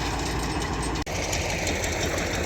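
A YUMZ-6 tractor engine runs steadily while the tractor drives, a constant dense rumble with a brief dropout partway through and no talking.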